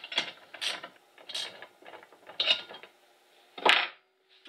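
Wheel bolts on a Harbor Freight dolly are tightened with a ratcheting tool, giving several short bursts of rapid clicking separated by brief pauses, close and fairly quiet, with no one talking.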